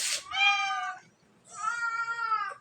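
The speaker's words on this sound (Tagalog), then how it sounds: "Pinakamatanda kong pusa. 15 years old na yan." A 15-year-old cat meows twice at close range, each call long and clear with a short quiet pause between them and no talking.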